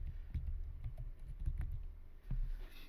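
Typing on a computer keyboard at a desk, a quiet close patter of irregular key presses with short pauses, no talking.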